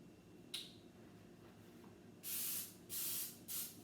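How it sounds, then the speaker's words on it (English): Pam cooking spray is sprayed onto a silicone muffin pan for banana muffins. There is a faint click, then three close, sharp hissing bursts with short pauses between them. "I just find it easier just to spray it."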